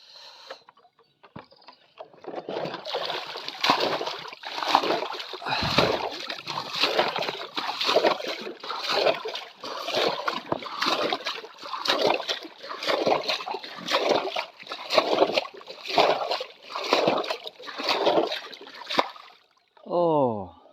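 Repeated splashes of water in quick bursts, one after another in a rough rhythm, with voices faintly present around them.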